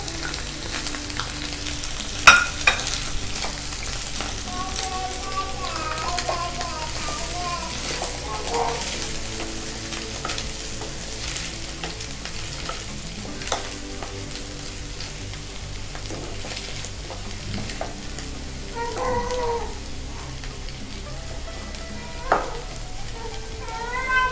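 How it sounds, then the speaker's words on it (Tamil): Egg fried rice sizzles and is stirred in a pan as fried egg goes in, with steady frying hiss, occasional scraping and a few louder clinks near the start. "அதில் நம்ம பொரிச்சு வச்சுருக்க முட்டையை இப்போ சேர்த்துக்கலாம்."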